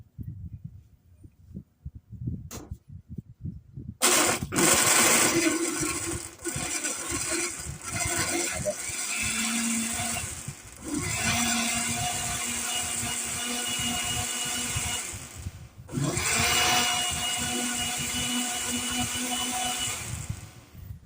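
A Eureka blender whirs loudly and steadily after a few quiet seconds, with brief pauses and restarts, dominating the foreground.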